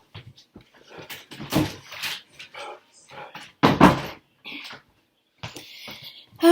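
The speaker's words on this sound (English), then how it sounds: "Sorry, my dog is barking." A pet dog barks indoors at home in a few short, sharp bursts mixed in with a person talking nearby.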